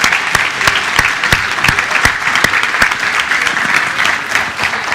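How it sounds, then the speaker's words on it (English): Sustained audience applause for a business panel on the TPP, a dense wash of many hands clapping with a few sharp, louder claps standing out near the microphone, steady throughout with no talking. "please clap the panel"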